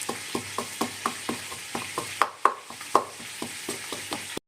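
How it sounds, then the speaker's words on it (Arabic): Garlic cloves and a pinch of salt are crushed in a mortar with a steady rhythm of about a dozen sharp, close pounding knocks. "وعندي 4 سنيات توم كمان راح ندقهم، نحط عليهم رشة ملح، وندقهم"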